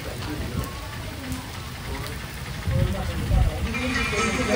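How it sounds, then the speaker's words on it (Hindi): Heavy rain pours steadily on a surface during a trip, a dense wash of drumming droplets with low rumbling underneath that thickens toward the end. "आ गई बहुत भयंकर वाली बारिश।"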